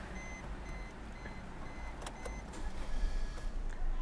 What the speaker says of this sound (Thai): เดี๋ยวสตาร์ทเครื่องฟังเสียงเลยนะครับ